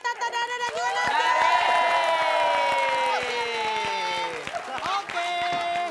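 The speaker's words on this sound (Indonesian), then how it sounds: "kita kasih tepuk tangan dulu dong buat Pati" A studio audience at an Indonesian comedy show claps and cheers, with whoops and shouts over a steady wash of applause, while bright sustained music tones sweep across it throughout.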